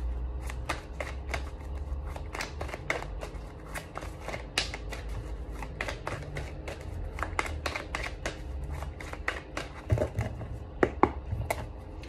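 Close, continuous shuffling of a tarot card deck: rapid papery riffles and slaps keep coming in an uneven rhythm, with a few sharper taps near the end.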